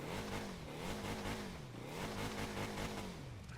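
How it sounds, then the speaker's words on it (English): A small go-kart-like car engine in Fortnite revs repeatedly, its buzzy pitch rising and falling in waves. It sounds close and continuous, with no talking. "Wait, you can rev the engine."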